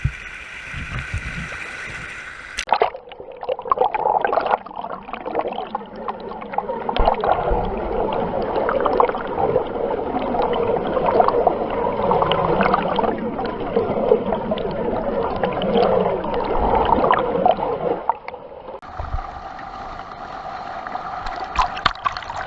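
A rushing waterfall roars loudly close at hand on a nature hike. The broad, constant wash of falling water swells in after a short quieter start and dominates for most of the stretch before easing, with no one speaking.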